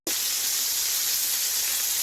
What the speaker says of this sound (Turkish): Şöyle patates kızarsın da onun yanında hemen soğan halkası da kızartayım.